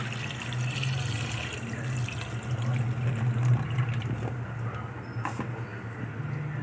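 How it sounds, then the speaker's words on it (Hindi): About three cups of water pour steadily into a cooking pot holding mutton and ground coriander, a continuous close splashing rush with no talk. "और पानी इसे गिराने के लिए तकरीबन मैं 3 कप इसमें डाल रही हूँ।"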